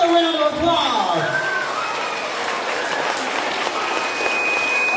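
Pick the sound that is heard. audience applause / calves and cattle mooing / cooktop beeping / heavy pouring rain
audience applause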